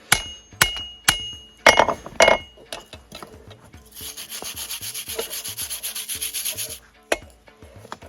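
A wire brush scrubs scale off an iron Viking axe ahead of forge welding, with sharp scraping strokes, a few metallic knocks early on and a sustained bristly rasp in the middle.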